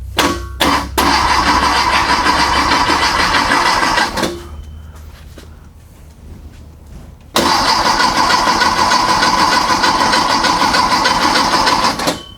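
A flat-four engine cranks, catches and fires for the first time, running loud and steady for a few seconds, dropping away briefly, then roaring back to a sustained close-range run.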